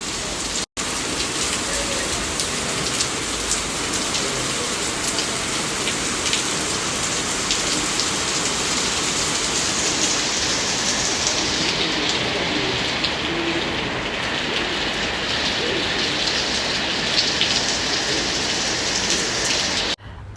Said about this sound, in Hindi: बाहर आई गेस बारिश आ चुकी है